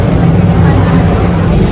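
A boat engine churning steadily on a Venice canal, a loud, close, continuous low drone with no break.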